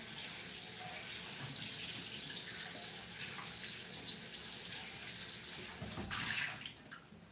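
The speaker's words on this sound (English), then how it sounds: "I'm gonna leave most of the sediment here and just rinse it out" Tap water runs steadily into a mushroom stock container being rinsed in a sink, a continuous close splashing rush that thins out and stops near the end, with no speech.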